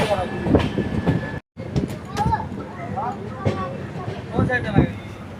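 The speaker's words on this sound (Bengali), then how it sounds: "অবশেষে ট্রেন এসে পৌঁছলো এনজেপি স্টেশনে।" A passenger train pulls into New Jalpaiguri (NJP) station during the Darjeeling monsoon season, giving a steady loud rumble with wheel clatter and brief squeals. Voices carry on throughout the noise.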